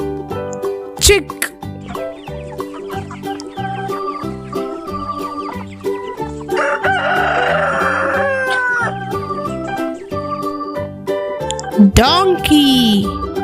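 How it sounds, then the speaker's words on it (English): Chicken clucks and chirps come in a busy cluster partway through, followed by a shrill crow near the end, all over bright children's music with a voice in the mix. "chick"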